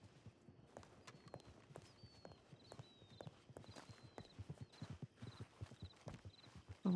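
Horse hooves clip-clop at a steady walking rhythm in a Western roleplay video game, faint and continuous, with soft game ambience behind them.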